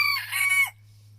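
An Olandsk Dwarf rooster crows loudly and close by, a single harmonic-rich call lasting about two thirds of a second before cutting off into a faint steady hum.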